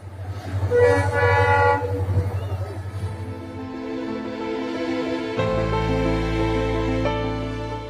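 A train crossing the Pamban rail bridge at Rameswaram sounds a long, loud horn blast over a steady rumble of wheels and cars, and the tone shifts as it passes.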